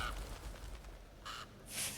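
Crow cawing in the video game Alone in the Dark: a few faint, harsh caws over a quiet ambient background, the last one louder and closer.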